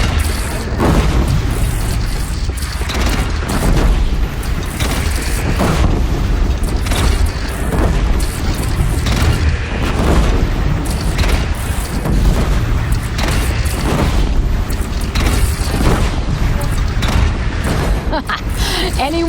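Cannon blasts and explosions in Horizon Zero Dawn, heard as a loud, continuous barrage of deep booms under dense battle noise and shouted voices, with no pause.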